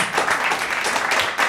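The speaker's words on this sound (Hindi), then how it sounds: "संकेत त्रिपाठी, एक बार तालियां।" Brief burst of audience clapping at a Hindi poetry recital, a dense, fairly loud wash of many hands, short and even.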